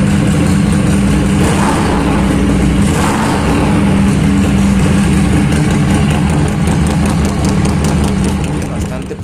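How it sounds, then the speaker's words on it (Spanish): A modified Harley-Davidson motorcycle's exhaust idles loudly and close, a deep uneven rumble throughout, with a voice speaking over it. "Y el escape suena rico,"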